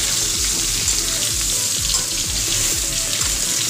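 Vegetables fry in a pan for a vegetarian ash gourd and pumpkin paturi, giving a steady, loud, even sizzle with faint stirring scrapes now and then, close up and without pause.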